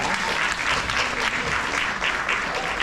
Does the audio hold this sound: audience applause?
yes